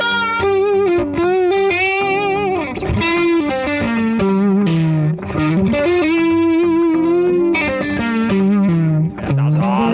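An electric guitar with distortion and chorus plays gliding, bending notes in a slide-like style, sustained and continuous with no talking.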